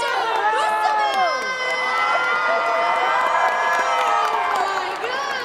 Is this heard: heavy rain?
no